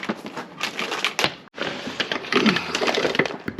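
An LED wiring cable is cut during installation of a lighting system on a 4x4 or camper van: close, dense crunching and crackling snips, a brief gap partway through, then more continuous crushing clicks.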